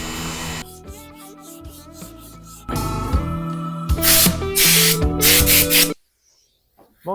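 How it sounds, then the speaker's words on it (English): Hand sanding with 80 grit sandpaper on the bodywork of a 1972 Chevrolet El Camino gives rough, scratchy strokes in uneven bursts, some loud and harsh, ending in a short near-silence. "this is the 80 grit sandpaper we're using at first"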